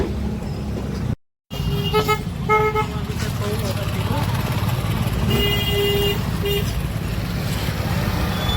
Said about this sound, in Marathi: ट्रॅफिक लय आहे इथं